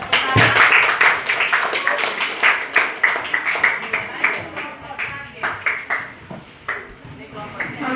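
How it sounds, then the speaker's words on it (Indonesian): Classroom students clap for a group in bursts of sharp, uneven handclaps that come in quick waves, with voices mixed in. "Tepuk tangan."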